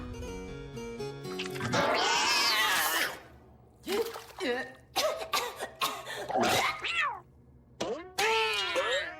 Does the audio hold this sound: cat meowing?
yes